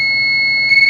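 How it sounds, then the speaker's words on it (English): A thermocycler sounds a steady electronic alarm beep because its water level is low, a continuous high tone held close and loud that breaks into a few quick pulses near the end. "You might notice that there's some beeping going on right now."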